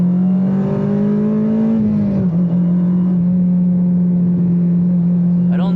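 Honda Civic Type R FD2 engine running at steady high revs, a loud sustained drone that stays level without climbing all the way out, close up from inside the car.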